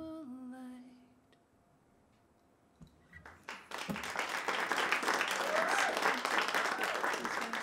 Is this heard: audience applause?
yes